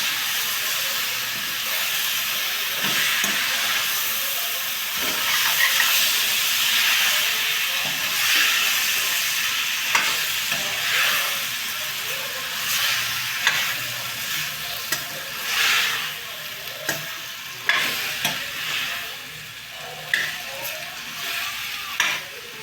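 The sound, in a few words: stirring fried ridge gourd vegetable with onion and tomato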